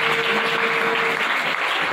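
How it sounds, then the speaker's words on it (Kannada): Loud, dense applause from an audience at a devotional Purana gathering, a continuous wash of clapping with a faint steady tone running underneath. "ಜೋರಾಗಿ ಚಪ್ಪಾಳೆ ತಟ್ಟಿ"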